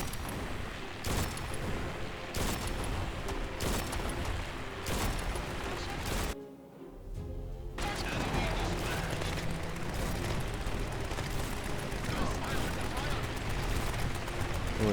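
Dense, rhythmic heavy gunfire and thudding explosions in the game Grit & Valor 1949 pound on repeatedly, break for a short lull, then resume in a continuous loud barrage.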